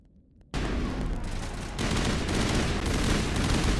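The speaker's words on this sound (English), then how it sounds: "the gunshots are louder than everything." Mass Effect Legendary Edition gunfire bursts in suddenly after a brief quiet moment, then continues as loud, dense rapid shots that build slightly in intensity.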